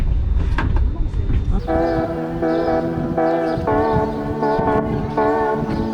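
Loud rumble inside a moving French TGV train, with a sustained, tonal horn-like blare sounding in repeated bursts over the steady rolling noise.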